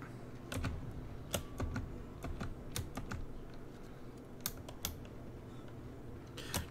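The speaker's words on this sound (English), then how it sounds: "it's a mechanical keyboard, so it's just loud at the end of the day." Fast typing on a loud mechanical keyboard, sharp clacking keystrokes in uneven bursts with brief pauses, close and clear over a low background hum, no talking.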